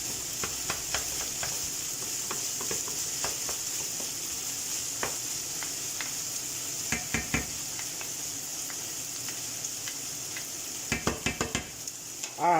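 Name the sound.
minced meat browning in a pan, being stirred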